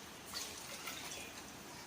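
A ladle of plain water is poured into a pot of meat stock for Afghani pulao in a home kitchen, giving a faint, brief liquid splash and trickle. The sound is soft, with no voices.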